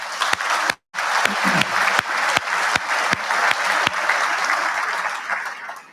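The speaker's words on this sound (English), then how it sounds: "how about a round of applause to the Marine Corps Association?" At a Marine Corps Association awards dinner, a banquet audience breaks into loud, sustained applause, dense clapping from a large room that carries on evenly and tapers slightly at the end.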